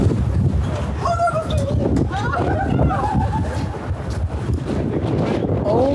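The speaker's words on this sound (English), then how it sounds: "It's so fucking windy!" Strong wind buffets the microphone outdoors during a street photography walk, a loud, continuous low roar with gusty swells lasting throughout and voices faintly underneath.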